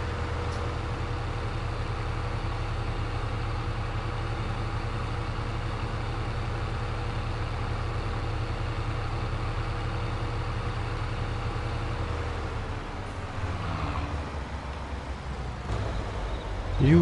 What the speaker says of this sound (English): This is quite the tractor to make some noise.